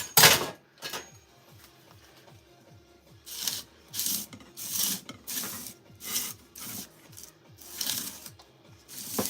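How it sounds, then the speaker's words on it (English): An offset spatula scrapes and smooths across the top of cake batter in a bowl or pan, a soft rhythmic rasp repeated in short strokes, quiet and close, with no voices. "smooth tops gently with an offset spatula"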